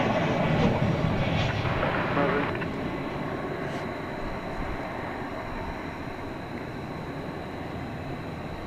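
Jet airliner landing at DFW Airport at night, a loud broadband engine roar that fades into a steady distant rumble, heard alone at a distance.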